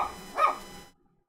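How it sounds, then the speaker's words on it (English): A household dog gives a single short bark close by, which cuts off abruptly into silence. "I have a feeling my dogs bark at everything"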